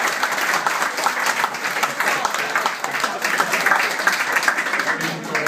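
Guests applaud a speech at a 60th birthday celebration, with dense, steady clapping that fills the room from start to finish, close and fairly loud, with a few voices mixed in.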